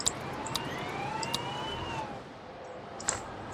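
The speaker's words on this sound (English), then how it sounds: "Because I hear cop sirens in the game." Police car sirens in the city-building video game Tropico 6, a wailing rise-and-fall tone heard at moderate distance, mixed with sharp clicks and interface blips.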